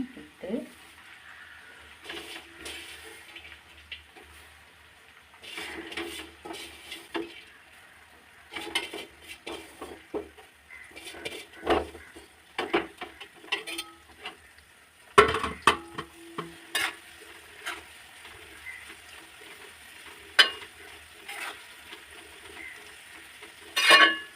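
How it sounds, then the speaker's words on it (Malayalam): Bhringraj leaves dropped into hot oil for homemade hair oil, giving intermittent crackling sizzles and stirring clatter in a quiet kitchen, with scattered bursts and long low pauses. "എണ്ണ ചൂടായിട്ടുണ്ട് ആദ്യം തന്നെ ഭൃംഗരാജൻ അഥവാ കയ്യോന്ന് ഇടുകയാണ്"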